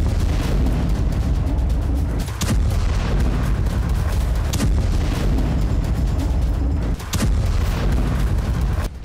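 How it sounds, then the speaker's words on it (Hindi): Rocket explosions during a Hamas attack on the Israeli town of Sderot, a continuous barrage of heavy booms and blasts with rumbling low end and a few sharper cracks, loud and dense throughout. "इजराइल के स्टेरोट शहर में भी हमास ने 1 दर्जन धमाके किए।"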